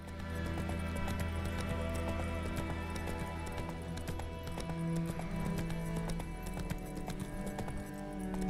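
Geralt's horse Roach trotting in The Witcher 3: Wild Hunt, a steady, even clip-clop of hooves that carries on without a break over a low, sustained music bed, close and moderately loud.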